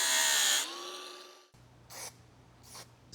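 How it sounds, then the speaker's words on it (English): A power tool cuts an inch out of a metal right-side shield on a Horning FP240 kernel processor, whining loudly for about half a second before the motor winds down, followed by a few short scraping bursts. "Need to cut 1 inch out of the right shield."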